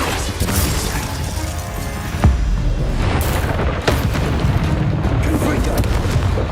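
Confringo fire-blast spells in the video game Hogwarts Legacy erupt as two deep booms a couple of seconds apart, set in a dense, noisy din of combat effects and mechanical clatter.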